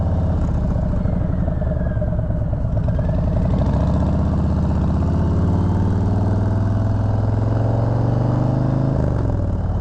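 A 2020 Harley-Davidson Low Rider S engine runs steadily while the bike is ridden, a continuous deep rumble that holds for the whole stretch with a slight shift near the end.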